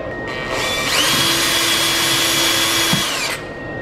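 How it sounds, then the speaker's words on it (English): A power drill whines at high speed while boring a pilot hole, one continuous loud run of close motor noise that starts up, holds steady for a few seconds and then winds down. "I'm drilling a pilot."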